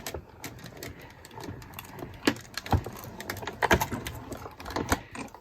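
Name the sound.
die cutting machine running paper strips through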